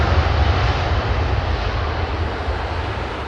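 Airliner with Pratt & Whitney engines departing Heathrow, a loud, steady jet roar with heavy low rumble that holds close and constant throughout, without voices.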